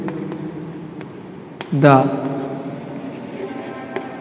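Marker or chalk strokes on a classroom board during a math lesson, a few quick scratchy strokes with someone speaking briefly over them.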